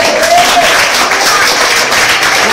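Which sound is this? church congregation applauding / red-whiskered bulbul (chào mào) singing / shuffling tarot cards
church congregation applauding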